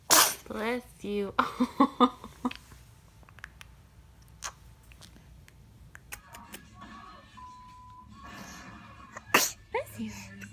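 Several small sneezes from a baby, short sharp bursts spaced out over the clip, with adult voices talking and cooing around them in a quiet room.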